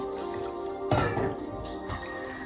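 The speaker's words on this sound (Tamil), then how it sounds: "நல்லா தண்ணியை விட்டு கரைச்சி கொள்ளுங்க" Water is poured onto wheat flour and mixed by hand for Tirunelveli halwa, giving soft wet squishes and drips, one sharper splash near the middle, close and quiet.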